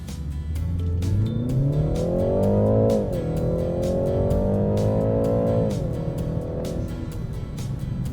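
A 2020 BMW 330i xDrive with the 2.0-litre turbo four accelerates hard in sport mode, its engine note climbing loud and close with two steady upshifts, running alone for about eight seconds.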